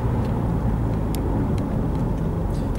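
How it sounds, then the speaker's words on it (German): Car with automatic transmission coasting and rolling out, a steady low road rumble and engine drone heard from inside, with faint ticks and no clear audible downshift. "Jetzt lassen wir das Auto ausrollen."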